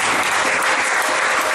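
A church congregation at a gospel seminar applauds and acclaims the name of Jesus, with loud, dense, steady clapping from a full room and no pauses.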